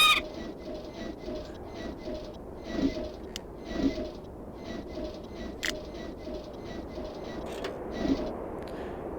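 Chirping and cooing calls from mechanical birds in the game Lighthouse: The Dark Being, repeating in short bursts over a steady background hum, with a few sharp clicks.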